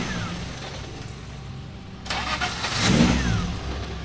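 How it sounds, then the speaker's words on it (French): Race car engine started while the steering wheel is turned: quiet background first, then the engine catches about halfway through and settles into a steady, fairly close running note, with no talking. "Essaye de tourner en démarrant, voir si ça fait du bruit."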